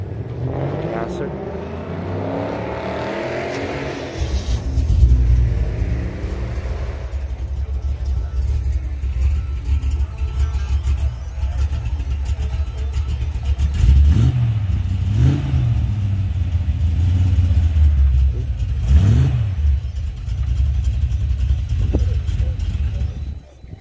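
Gasser hot rod at an outdoor car show, with a deep steady engine rumble and several rising revs in the middle and later parts, while people talk nearby.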